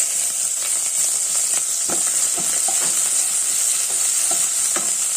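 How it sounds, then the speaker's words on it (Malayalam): Garlic and curry leaves frying in a pan while being stirred, a steady bright sizzle with scattered scraping clicks of the spoon against the pan throughout. "പച്ച വെളുത്തുള്ളി കറിവേപ്പില ഇതിട്ട് നമുക്കൊന്ന് ജസ്റ്റ് ഇളക്കാം"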